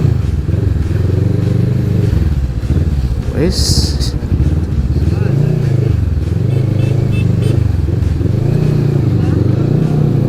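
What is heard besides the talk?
Kawasaki Vulcan 650S motorcycle riding and turning right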